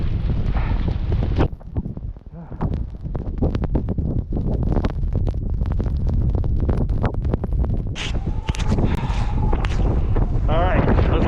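Blizzard wind in Nuuk, Greenland buffets the microphone in loud, continuous gusts with rumbling low roar and scattered crackles, briefly easing once before surging again; a voice is faintly present beneath.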